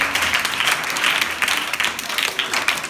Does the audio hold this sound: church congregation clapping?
yes